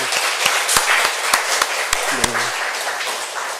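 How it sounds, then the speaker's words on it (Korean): A church congregation applauds during a Sunday worship service, a fairly loud spread of clapping with a few sharp individual claps standing out and a brief voice underneath. "우리 아버지 하나님께 감사와 찬양 박수 보내겠습니다."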